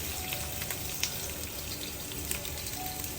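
Curry leaves frying in hot oil for a sambar tempering, a steady close crackling sizzle with faint pops throughout.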